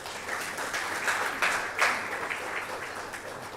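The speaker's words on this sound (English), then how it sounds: "A round of applause for him." An audience claps steadily for a professor walking on stage at a genomic medicine building event, a dense wash of many hands that holds at a constant level throughout.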